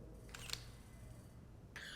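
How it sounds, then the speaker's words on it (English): Very faint camera shutter clicks at 1/15 second, two brief soft snaps close together early on and another near the end over a quiet background hiss. "I'm actually pulling my camera up as I'm taking this shot at 1/15th of a second shutter."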